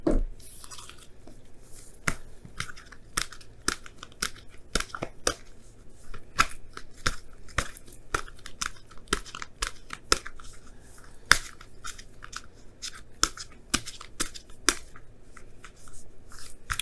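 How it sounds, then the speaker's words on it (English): Oracle cards being shuffled by hand, a steady run of soft papery riffles and sharp flicks repeating close up for the whole stretch, with no talking over it. "Now I'm going to pull you guys your wisdom of the oracle cards for this week."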